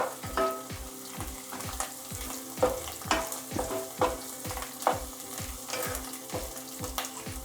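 Biryani masala with fresh coriander and mint fries in a pot, a loud continuous sizzle broken by rhythmic scraping stirs about every half second, close up with no talking.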